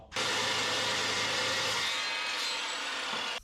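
A chop saw cuts through a steel control arm for a 1963 Loadstar truck, a loud continuous grinding whine that holds steady for about three seconds before cutting off abruptly.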